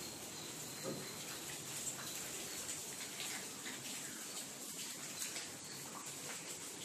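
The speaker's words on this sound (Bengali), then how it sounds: "বাইরে তো বৃষ্টি হয়ে যাচ্ছে সমানে" Steady rain pours outside a house at noon, an even, dense hiss of falling water that stays constant throughout, with faint bird chirps here and there in the background.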